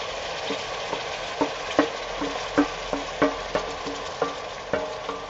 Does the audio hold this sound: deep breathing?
no